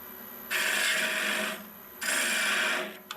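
A woodturning gouge hollows the end grain of a natural edge wooden vase on a lathe, two sustained hissing, rasping cuts of about a second each separated by a quieter pause, with no talking.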